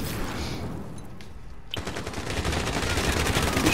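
Automatic gunfire rattles in Call of Duty Warzone, starting after a short lull as a sudden sustained burst of rapid shots that keeps going, loud and close.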